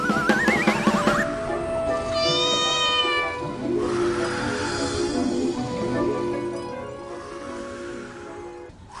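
Animated cat in a children's story meows repeatedly, with long drawn-out rising and falling cries, loud and close, over light background music.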